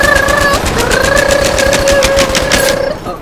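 Rapid automatic gunfire from a rifle in the video game Battlefield 3, a fast, even stream of loud shots running nearly nonstop for about three seconds before cutting off.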